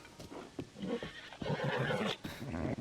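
A horse neighs and whinnies in the video game Zelda: Tears of the Kingdom, a few close, loud calls with hoof clip-clop, heard alone without talk.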